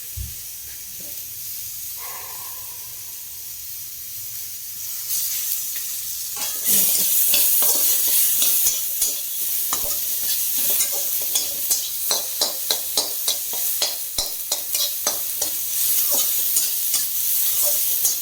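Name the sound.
fried potatoes sizzling with ginger added, stirred in pan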